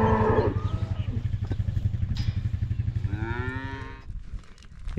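A cow moos loudly nearby, a long drawn-out low call, over a steady rumbling engine drone.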